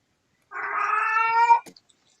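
A cat gives a single clear, drawn-out meow, close and fairly loud, ending with a brief click, in an otherwise quiet room.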